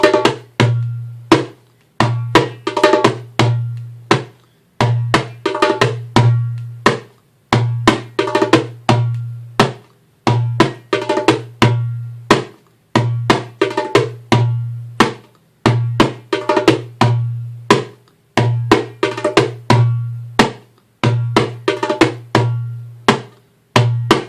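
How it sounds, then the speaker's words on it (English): A darbuka plays a simple maksum rhythm, deep resonant doums alternating with sharp teks and kas, with a quick clockwise split hand run folded into the middle; steady repeating cycles, close and loud, with no talking. "Here's a simple maksum with a clockwise split hand run thrown in the middle of it."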